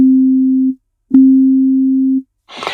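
Two steady pure tones for microtonal ear training, set 20 cents apart, play one after the other, each holding for about a second with a short gap between, clean and loud, followed by a brief noisy rustle.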